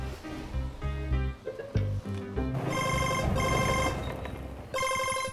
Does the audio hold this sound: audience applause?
no